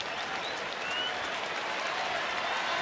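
Baseball stadium crowd at a Rangers–Angels game in Texas cheering for pitcher Alexi Ogando in the 7th inning, a dense, steady roar of applause and voices filling the whole clip without a break.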